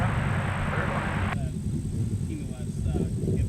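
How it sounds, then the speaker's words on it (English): An Alaska Airlines Boeing 737 MAX 9 in West Coast Wonders livery at Minneapolis–St. Paul airport gives a steady, loud jet roar that suddenly thins to a quieter rumble partway through, with faint voices underneath. "Alaska Airlines West Coast Wonders livery. 737 MAX 9 headed back to Seattle."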